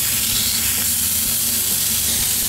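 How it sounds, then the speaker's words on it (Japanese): Meat, some of it air-dried overnight, sears over medium heat in a hot frying pan, giving a steady, close, continuous sizzle and hiss with no talking. "熱したフライパンで焼いていきます"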